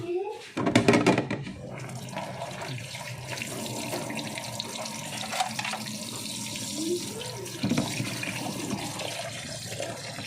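Water gushes steadily from a tap into a container, a constant rushing splash that lasts throughout, with a brief louder burst near the start.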